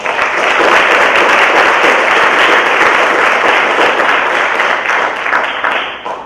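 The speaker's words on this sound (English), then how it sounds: "Give yourself a big round of applause." Loud, sustained applause fills a room at a high school Spanish honor society induction celebration, dense clapping that stays strong throughout and fades slightly at the close.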